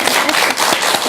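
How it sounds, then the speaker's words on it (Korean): A studio audience on a Buddhist talk program gives a burst of close, loud hand clapping, with dense, rapid claps filling the brief moment. "우리 부처님을 위해서 뜨거운 박수 한번 주도록 하겠습니다."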